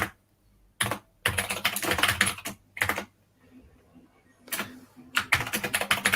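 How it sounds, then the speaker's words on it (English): Quick bursts of clicking keystrokes on a computer keyboard, several typed runs separated by short pauses, close and clear with no talking. "I'm just typing in figlet hello world"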